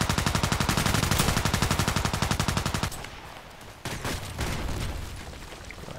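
A Glock 18 fires in full-auto in the shooter game Contract Wars, a long rapid stream of evenly spaced shots for about three seconds, followed by a few scattered, quieter shots.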